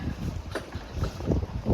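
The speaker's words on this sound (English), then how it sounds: "It is windy." Gusty wind buffets the microphone in low rumbling bursts, rising and falling loudly outdoors in the Portland area, with no talking.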